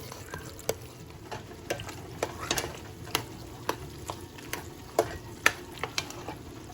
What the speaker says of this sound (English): we're going to stir these noodles in, and we're going to cook the noodles and the sauce together